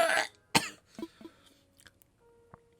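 A single loud, harsh cough close up, followed by a couple of softer throat-clearing sounds and faint mouth noises, then near silence.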